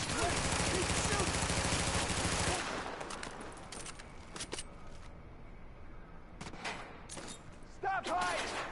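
Gunfire in The Division video game opens with a dense, rapid burst of automatic shots. Sparser cracks, clatter and a voice follow as the shooting breaks off.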